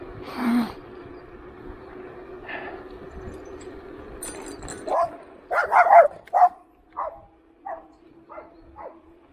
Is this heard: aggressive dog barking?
yes